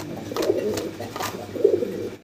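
White Bombai pigeons coo close by in a few soft, throaty rolling calls, with faint background voices.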